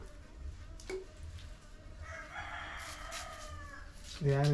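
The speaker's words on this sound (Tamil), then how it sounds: "நம்ம கோழியா நம்ம கோழி தான்" A rooster crows in the distance, a drawn-out call rising over outdoor background noise, followed by a brief louder thump near the end.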